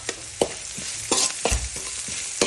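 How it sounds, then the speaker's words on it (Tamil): Goat blood fry sizzles in a hot pan while a utensil stirs and scrapes it in irregular strokes, close and fairly quiet. "அதுக்கப்புறம் இது நல்லா வதக்கிக்கோங்க."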